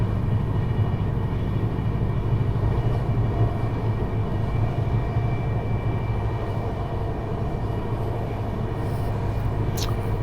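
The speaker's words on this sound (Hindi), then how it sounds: "अभी फ़िलहाल हमारी ट्रेन हाई स्पीड में स्किप कर रही है दानकुनी जंक्शन को, काफ़ी तेज़ रफ्तार में स्किप किया है भाई।" Poorva Express passenger train running at high speed past Dankuni Junction on the Howrah to New Delhi route, heard as a steady, loud, continuous rumble and rush from inside, with a brief higher squeal near the end.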